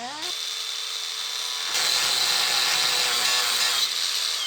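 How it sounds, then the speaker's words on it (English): Power tool cutting into a car chassis, starting with a rising whine, then a harsh steady grinding buzz that grows louder midway and continues with no talk. "so we have to cut the chassis"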